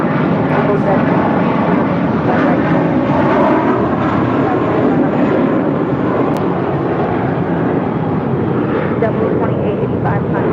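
United Boeing 787 Dreamliner airliner touching down, arriving from Newark, a steady broadband jet roar that stays loud and continuous throughout with a faint radio voice underneath.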